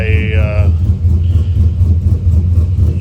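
A truck's 6.2 V8 engine, untuned, rumbles steadily at idle with a deep, throaty burble and a brief rising whine at the start, close and loud.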